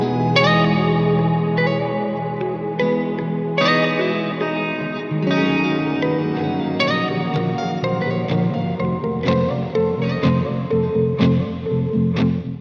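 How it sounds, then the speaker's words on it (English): Two songs crossfaded clumsily in clashing keys, overlapping chords and notes piling into a dissonant, smeared blend with echoing, chorused textures over about thirteen seconds, steady and full with no voices. "We've all heard playlists or even on the radio where they tried to crossfade some songs"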